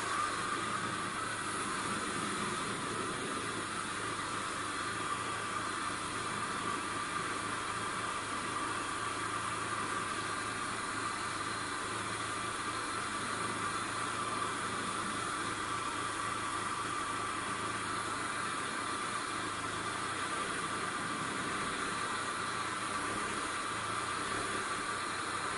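A Toyota Corolla from the 1992–2002 years idles at a raised speed, a steady, even hum that holds unchanged throughout with no talk over it.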